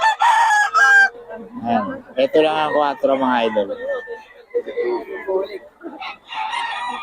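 Roosters crow and chickens cluck loudly and close by at a gamefowl seller's stalls, with repeated calls overlapping someone talking throughout.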